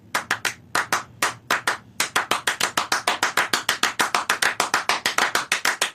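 Two people clapping Steve Reich's Clapping Music, crisp interlocking hand claps in a fast repeating rhythmic pattern, close and dry with brief gaps early on before settling into an unbroken pulse.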